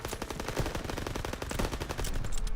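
Sustained machine gun fire in the World War II shooter Call of Duty WW2, a dense continuous rattle of rapid shots with several guns overlapping, loud and unbroken with no talking.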